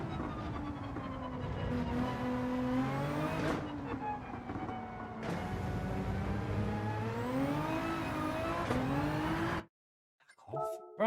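A McLaren race car engine in Gran Turismo 7 screams at full throttle, its pitch rising and dipping through gear changes in a continuous loud whine, then cutting out abruptly near the end before a brief restart.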